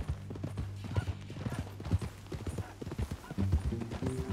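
Horse hooves clip-clopping in Red Dead Redemption 2, a steady, close walking rhythm with brief harness rattles and a faint low hum beneath the steps.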